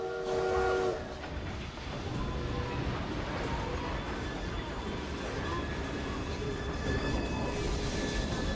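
Steam train running in Assassin's Creed Syndicate, a steady rumbling clatter throughout with a brief whistle-like tone at the start, moderately loud and continuous.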